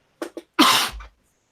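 A single sneeze from a person on a live sports talk stream, preceded by two short sharp inhales, then a loud burst that fades quickly.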